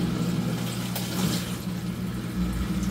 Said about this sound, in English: You can see the water's going around the basin.